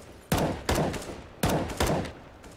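Gunfire in a first-person shooter game: four loud, sharp shots in two pairs, each with a brief ringing tail, close and clear with no talk over them.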